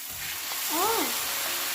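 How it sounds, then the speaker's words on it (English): Beef sizzling in a hot pan with vegetables and cooked potatoes, a steady frying hiss with a brief scraping stir rising in the middle, close and fairly quiet. "You can hear that sizzle."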